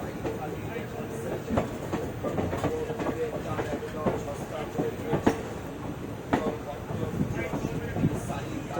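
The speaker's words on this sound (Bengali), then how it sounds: "ট্রেন চলছে ব্যান্ডেল জংশন ছাড়িয়ে।" The Teesta Torsa Express runs past Bandel Junction, its carriages giving a steady rhythmic clickety-clack of wheels over rail joints, heard from inside the train with a continuous rumble and brief voices in the background.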